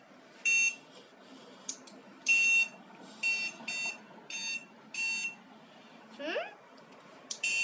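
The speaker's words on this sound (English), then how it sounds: "beep, beep, beep, beep, beep, beep, which means are you there?" A homemade Morse code transmitter sounds a series of short, high electronic beeps in an uneven pattern of short and longer tones, close and fairly clear, with a brief voice heard near the end.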